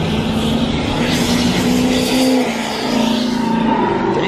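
A loud street car engine roars steadily nearby at a car meet, with a brief dip in revs midway before it picks back up, rumbling with no talk over it.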